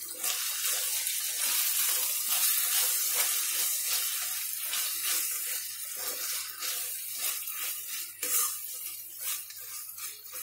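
Water is poured into a pot of dal khichadi with spices, a steady splashing pour close by that rises and falls slightly, with faint sizzling underneath and no talk.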